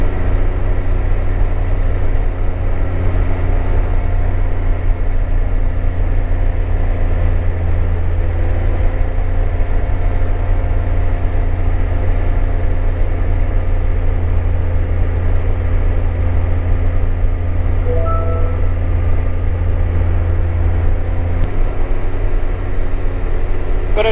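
Light aeroplane engine at a low power setting in flight at 1,000 feet in the early morning, a constant steady hum and drone from inside the cabin with no speech.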